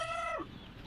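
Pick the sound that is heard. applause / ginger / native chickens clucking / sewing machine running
native chickens clucking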